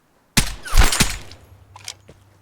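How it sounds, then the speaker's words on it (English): Gunfire in the video game Vigor: a sharp near shot followed by a burst of loud, close reports within about a second, then fainter scattered shots trailing off in the distance. "with him letting off shots like that, and some more gunshots being heard nearby"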